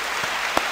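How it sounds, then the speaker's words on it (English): Audience applause for a guest during a comedian's talk, a short steady wash of clapping with one sharper clap near the end. "let's give Levy another round of applause."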